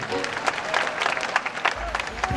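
Crowd applause, a dense patter of many hands clapping continuously, with a voice faintly heard over it.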